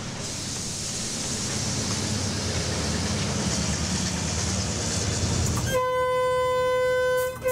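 A train climbs a mountain railway in Myanmar with a steady, loud rumble and clatter of wheels and carriages, then a sustained horn blast sounds near the end.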